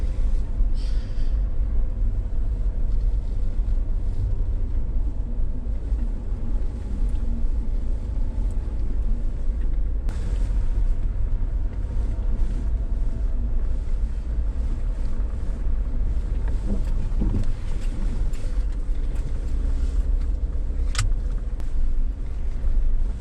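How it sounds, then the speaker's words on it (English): A Jeep creeps along in four-wheel drive low through a snowstorm near Big Bear, California, its steady low engine rumble and cabin noise continuous throughout with no talking. "We're just 4-wheel drive low, creeping out of here."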